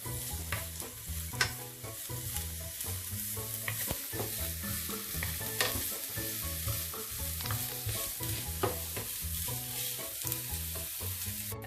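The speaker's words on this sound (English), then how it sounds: "And also the onions. And saute for around 4 minutes." Onions saute in a pan over medium heat with garlic for chicken enchiladas, a steady sizzle with repeated scraping stirs of a utensil, close and continuous, with no talking.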